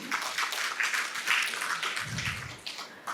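Audience applause at a Bharatanatyam-style dance drama performance at Seva Sadan, Bangalore: a steady wash of many hands clapping in a hall, moderately loud and sustained throughout without pause.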